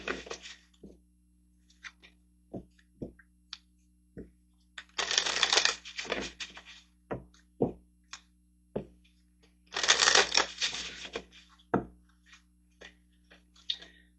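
Tarot cards being shuffled in two long riffling bursts, with scattered taps and soft clicks between as cards are drawn and laid down, close and fairly quiet, with no talking.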